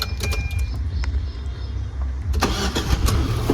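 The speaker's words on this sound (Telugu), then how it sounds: "ఇంజన్ అయితే స్టార్ట్ చేస్తున్నా" A 2015 Tata Zest XM car's engine cranks with quick rhythmic churning, then catches and settles into a running rumble nearby, with no talking over it.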